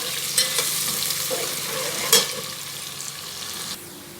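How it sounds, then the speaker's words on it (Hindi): Chopped onions fry in hot oil toward light golden brown for a masala mash daal, with a continuous close sizzle and occasional spoon scrapes as they are stirred. "देखिए यहाँ मैंने सबसे पहले प्याज को भाज दिया, इसको फ्राई करेंगे, लाइट गोल्डन ब्राउन कर लेंगे इसको।"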